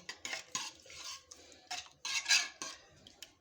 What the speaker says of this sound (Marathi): आता हे आपण मिक्स करून घेऊ